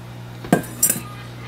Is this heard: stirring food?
yes